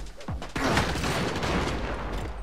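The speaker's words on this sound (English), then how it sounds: "Shotgun can get through this." Shotgun fire in the video game Saints Row: a loud burst of blasts kicks in after a brief lead-in, then overlapping booming reports and gunfire clatter continue densely to the end.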